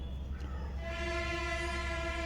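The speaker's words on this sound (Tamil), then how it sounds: "ஹார்ன் சவுண்டோட வருது" A single sustained horn blares steadily, loud and tonal, starting just under a second in and holding to the end.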